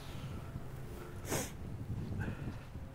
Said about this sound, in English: It's that little sniffle.